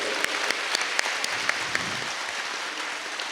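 A satsang gathering at the Swarved Mahamandir claps for one another, giving a dense, continuous round of applause with a few sharper individual claps that stand out at regular beats, loud and sustained throughout.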